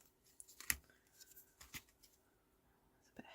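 Scissors snip through paper while trimming a handmade purple and blue scrapbook mini album, giving a few quiet, sharp cuts spaced apart against a faint, hushed room.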